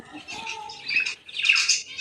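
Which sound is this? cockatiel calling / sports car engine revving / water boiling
cockatiel calling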